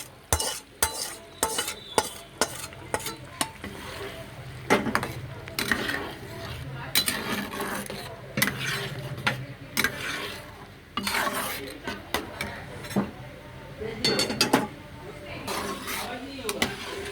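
Spices are tipped in and stirred through a pot of mixed vegetable dal, with irregular scraping and clinking of a utensil against the pan over a soft sizzle, while someone talks.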